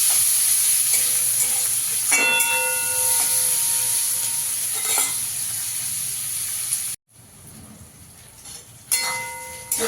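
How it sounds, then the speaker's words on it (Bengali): Chopped onions sizzle and fry steadily in a hot pan, a continuous close hiss with brief clinks, dropping out suddenly near the end before the sizzle returns. "পেঁয়াজটাকে একটু লাল লাল করে ভেজে নেব"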